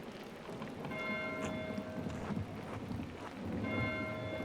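A church bell tolls twice in the video game Pentiment, its ringing tones sustained and fading, heard over a steady wash of rain-like background noise.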